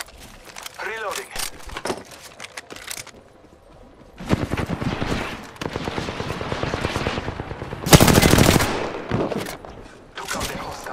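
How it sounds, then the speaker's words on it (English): A firefight in the video game Apex Legends, with rapid automatic weapon bursts and shots building to a loud crackling volley, mixed with in-game voice callouts. "Another squad is attacking us! Firing!"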